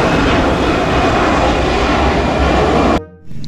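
An Airbus A380 passenger airplane's engines give a loud, continuous roar that holds steady for about three seconds and then cuts off abruptly.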